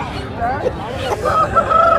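Roosters crow at an open-air country chicken market in Bhogapuram, Vizianagaram, with several overlapping crows held on long tones against a steady crowd babble.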